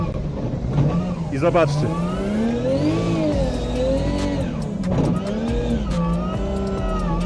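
Car engine revving hard and dropping to second gear while the car slides sideways through a drift on a wet track with a big puddle, with continuous loud engine tone and tire noise under a voice talking throughout.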